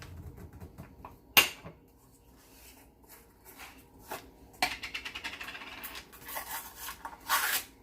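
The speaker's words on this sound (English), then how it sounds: "Then we're going to add a 1/3 cup of peanut butter." A third cup of peanut butter scraped and knocked from a spoon into a bowl, with a few sharp clinks of utensil against dish and soft smearing rubs between them, close up with no talking.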